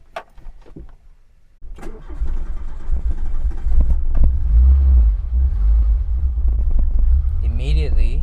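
A Peugeot 205 GTI engine cranks and catches after a quiet moment, then settles into a loud, steady running rumble from inside the car, with a brief higher revving flutter near the end.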